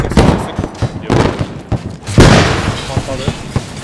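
Rapid gunfire and heavy booms in the video game Squad on the Narva map, with one big explosion partway through, over a loud busy soundscape with voices.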